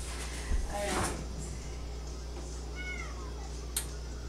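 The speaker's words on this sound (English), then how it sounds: "Oh, kitties making noise everywhere." A couple of short cat meows, one near and one softer, over a low steady hum with a bump of handling noise early on.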